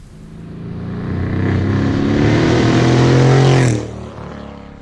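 A Dinan-modified Mercedes-AMG engine revs up loud and close, the pitch climbing over several seconds into a sustained roar before cutting off sharply to a lower idle.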